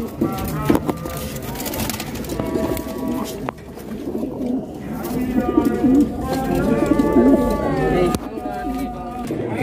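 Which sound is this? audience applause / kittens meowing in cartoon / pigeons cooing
pigeons cooing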